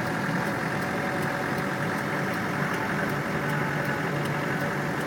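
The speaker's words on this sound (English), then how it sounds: "Here we are in the engine room of the Land Rover." Land Rover engine running steadily in the engine room, a continuous loud broadband drone with low rumble that holds at an even level throughout, with no talking over it.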